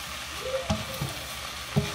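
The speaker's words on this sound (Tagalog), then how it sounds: "Haluin natin ang husto." Pansit noodles stirred in a hot pan, a continuous low sizzle with a few soft scraping knocks of the utensil, close by and without talk.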